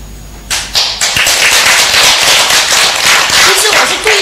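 Loud, dense applause from a seminar audience, erupting abruptly and sustained as rapid overlapping claps close by, with a few heavier hits toward the end.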